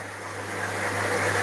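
A small waterfall pours steadily into a small red tilapia pond, making a continuous broad rushing wash of water that grows slightly louder and carries on with no pauses and no voices.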